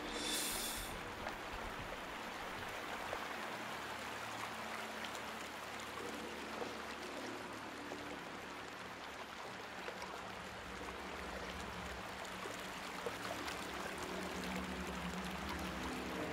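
A river current in the Outlast 2 video game rushes toward a waterfall, a continuous broadband roar of flowing water, steady and moderately quiet throughout.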